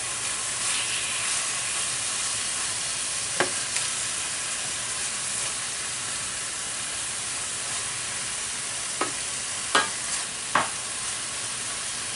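Beef sizzles and fries steadily in a pan for stroganoff, a continuous close hiss with a few brief sharp clinks or scrapes near the end, no talking.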